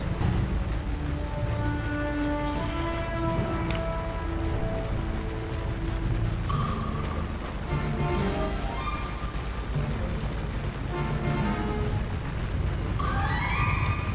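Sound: horses neighing in video game Mount & Blade II: Bannerlord

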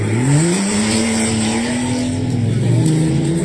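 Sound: car revving with tires squealing

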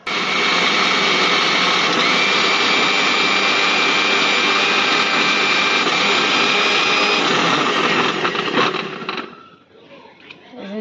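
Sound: mixer grinder grinding poppy seeds with green chillies

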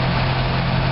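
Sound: Land Rover Series III 2.6 six-cylinder engine idling

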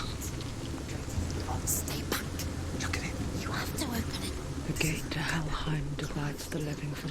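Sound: rain starting in the video game Hellblade Senua's Sacrifice

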